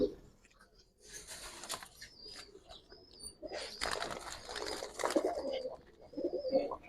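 Giribaz pigeons of the Palla line coo softly in a loft, low throaty murmurs rising and falling across several seconds, moderately close, with faint rustling and brief wing sounds between calls.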